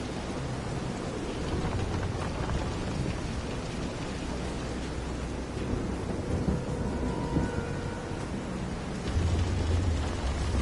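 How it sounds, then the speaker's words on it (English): A thunderstorm at sea in Visions of Mana, with steady heavy rain and a low rumble of thunder that swells toward the end. It is a broad, dense wash of sound with no voices. "This is some storm."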